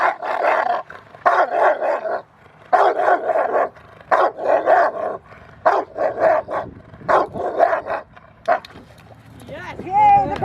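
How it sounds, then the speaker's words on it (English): A dog barks in a series of sharp, loud bursts, roughly a dozen barks in irregular rhythm with short gaps, close by, ending in a higher whining yelp. "I love that bark"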